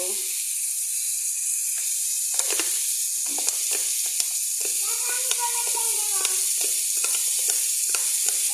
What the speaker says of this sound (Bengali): ভালো করে নাড়াচাড়া করে নেব, একটু সামান্য ভাজা ভাজা করতে দেব।